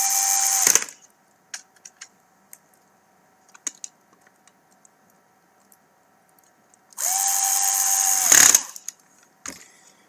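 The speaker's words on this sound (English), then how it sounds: "And you would continue to secure the rest of these screws." A power screwdriver drives Phillips case screws into a board during a TAO/LX7 drive motor replacement, giving two loud whirring bursts, one at the start and a longer one near the end, with light clicks and handling noises between.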